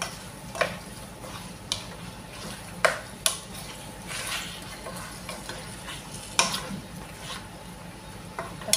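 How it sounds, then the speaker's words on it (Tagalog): A spoon stirs chicken stew with papaya and lemongrass in a pot, giving scraping, clinking strokes at an irregular rhythm over a soft, steady simmering sizzle. "Mix natin para lumasa."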